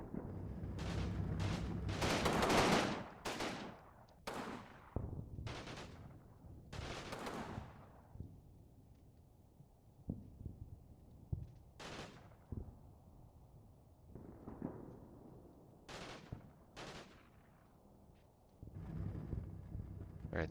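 Sharp, separate machine gun bursts from Combat Mission, a World War II era wargame, crack out in short clusters at varying distances, some loud and close and others fainter, with quieter rumbling between them.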